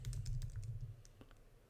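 Quick, faint taps on a computer keyboard, a short run of keystrokes close by over a low hum, with no voices.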